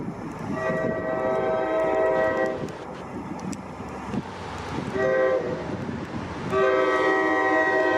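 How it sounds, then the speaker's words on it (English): An EMD GP40PH-2B diesel locomotive, number 4204 and built in 1969, rumbles past on a rainy day while its loud multi-chime horn blasts in several long sounds over the steady rail and engine noise. "GP40PH-2B number 4204, built in April 1969 and turning 56 this month."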